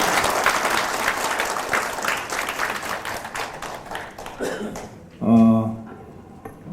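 A crowd at a book concert applauds in a dense, sustained patter that tapers off near the end, when a voice breaks in briefly.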